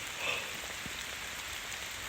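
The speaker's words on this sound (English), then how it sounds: "Oh, why is it raining so much?" Heavy rain in the woods while camping, a dense, even patter of drops on surfaces, steady and moderately quiet throughout with no voices.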